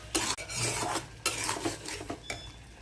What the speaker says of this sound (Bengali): এখন দিয়ে দেবো 5-6টা রসুনের কোয়া।